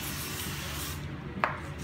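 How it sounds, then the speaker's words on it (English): A spray bottle gives eggplant slices a single quick spritz, heard as a short, soft hiss against quiet kitchen background noise. "Give it a spray."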